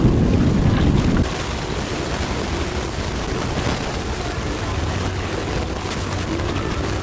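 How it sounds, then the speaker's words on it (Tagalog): Wind buffets the microphone over the steady wash of choppy open sea, loud and continuous with a harder gust at the very start. "Hirap ah, hangin tapos maalon"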